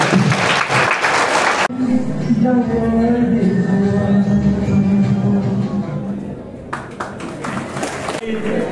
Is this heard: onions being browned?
no